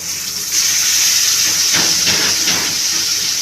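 Marinated chicken hitting a hot pan sets off a loud, close, steady hiss of sizzling that swells and holds, with a few brief bursts of spatter partway through.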